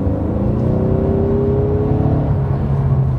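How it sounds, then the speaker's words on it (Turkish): A 2016 Ford Mustang with the 2.3L EcoBoost engine drones steadily from inside the cabin at around 70-80 km/h, low engine hum mixed with road noise, close and constant, with no talking. "Motor sesi baya geliyor."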